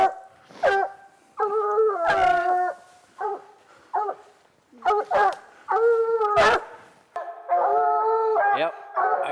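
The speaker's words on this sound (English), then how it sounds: "We raise and train these dogs for competition hunts and our own enjoyment" Coon hunting dogs on a Missouri hunt bay and howl in repeated drawn-out, overlapping bursts, loud and close, with short barks and whimpers between the long howls.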